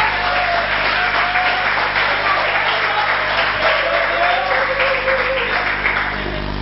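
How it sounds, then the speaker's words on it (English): An audience at a full stand-up comedy show bursts into sustained, loud applause, a dense wash of clapping filling the room with a few cheers mixed in. "Please clap for them, please."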